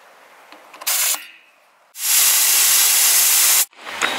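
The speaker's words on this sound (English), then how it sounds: "so I aired down the tires" Air hisses loudly from a Land Cruiser's tires as they are aired down, first in a short burst and then in a longer, steady rush close by, with no talking.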